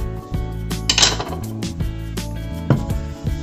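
Diced onions tumble into a pan of extra virgin olive oil with a couple of sharp clattering knocks and a brief rustle, close and fairly loud over a tonal musical background.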